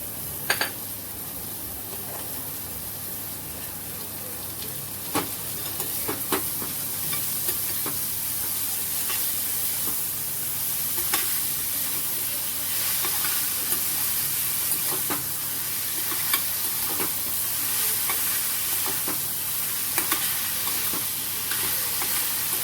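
Grated ivy gourd (tondli) frying with sautéed onion in a pan, a loud, constant sizzle broken by repeated scraping knocks of a spoon stirring, close up and with no voices.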